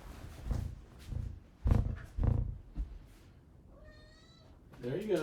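A house cat meows at a door, wanting to be let in. People talk first, then a clear drawn-out meow follows, with a second shorter call near the end.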